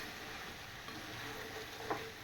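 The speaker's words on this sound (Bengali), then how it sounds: "আর এগুলো সব একসাথে ভেজে নিতেছি" Mixed vegetables frying together in a wok, a faint, steady sizzle with soft stirring scrapes and one brief clink near the end.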